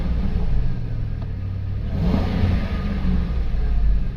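A cold Ford F-150 FX4 truck engine gets a stab of throttle, rising from a low idle rumble into a swelling rev around the middle before settling back to a steady drone.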